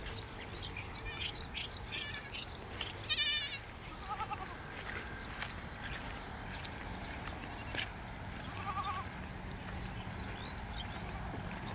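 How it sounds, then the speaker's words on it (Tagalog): Goats bleating on a riverside farm, several short bleats from more than one animal at moderate distance, scattered over a steady outdoor background with birds and occasional thumps. "Kambing guys, kambing guys."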